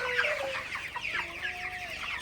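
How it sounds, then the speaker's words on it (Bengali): Broiler chickens in a poultry shed of about five hundred birds, giving several overlapping clucks and short rising calls, fairly close and moderately loud over a low background hum. "এই শেডে পাঁচশো পিস মুরগি আছে"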